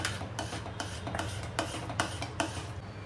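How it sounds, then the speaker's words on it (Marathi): Whole nutmeg rasped on a small grater for a sweet puran poli filling, a steady back-and-forth scraping in a handful of even strokes, close and clear with no talk. "आता इथे ह्यात मी हे जायफळसुद्धा थोडं किसून घालते"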